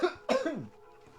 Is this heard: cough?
yes